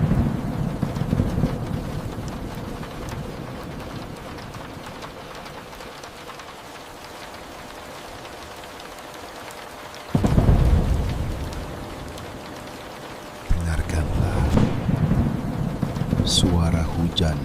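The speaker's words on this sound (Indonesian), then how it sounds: "Dengarkan kembali hujan itu." Steady rain falls with a dense patter and hiss, broken by deep rolling thunder that booms in louder bursts partway through and near the end, with faint talking at times.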